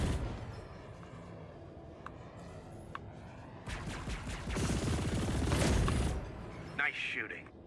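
Gunfire in the sci-fi shooter game Chorus, with quiet isolated shots early on, then a louder dense burst of rapid firing and impacts in the middle, followed by a brief electronic tone near the end.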